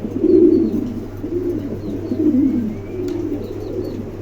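Pigeons coo close by at a pigeon sale in low, throaty, rolling calls that repeat continuously, with faint chirps in the background.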